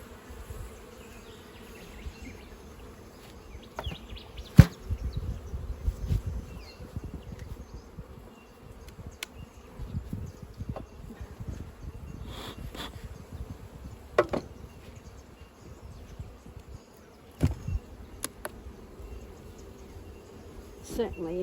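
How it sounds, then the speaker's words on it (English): Honey bees hum around an open beehive during a swarm-prevention check, a steady close drone with sharp knocks and clunks of hive equipment throughout, and a voice briefly present. "Certainly a few bees up here."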